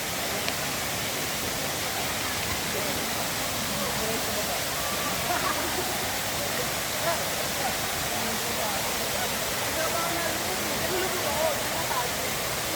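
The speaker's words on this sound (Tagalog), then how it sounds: "ito na po ay yung Daranac Falls" Daranak Falls waterfall roars steadily, a constant broadband rush that holds unchanged from start to end without any break.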